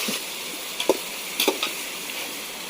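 Chopped onion hitting hot oil in a pot for chicken biryani, a steady close sizzle with a few soft stirring clicks and scrapes, no one speaking.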